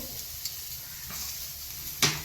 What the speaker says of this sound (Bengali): আমি পেঁয়াজ কলিগুলো আর ক্যাপসিকামগুলো একটুখানি জাস্ট মেরে ছেড়ে নেব বেশি ফ্রাই করব না